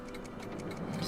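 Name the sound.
ticking clocks in Doc's lab, Back to the Future video game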